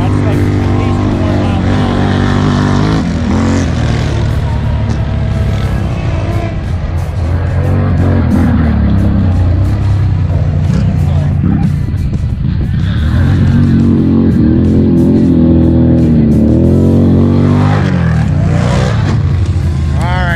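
Several 500-750 class ATVs tear around an MX race track on a hot lap, their engines roaring loud and continuous throughout with revving swells, while voices talk over the noise.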